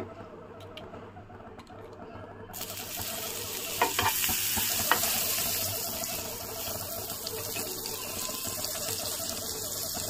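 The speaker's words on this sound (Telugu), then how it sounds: "ప్యాన్ అనేది వేడెక్కింది కాబట్టి బటర్ అనేది వేసుకుందాము ఫస్ట్" Butter sizzling and crackling steadily in a hot pan used to toast pav bhaji buns, with a continuous close frying hiss and a few sharper spatters midway, no talking.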